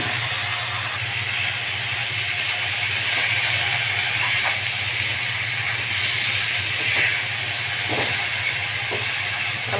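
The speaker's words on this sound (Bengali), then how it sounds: "এখন দিয়ে দেব বরবটি।" Yard-long beans dropped into a hot pan of fried spice paste send up a loud continuous hissing sizzle that carries on steadily with occasional faint clinks and no talking.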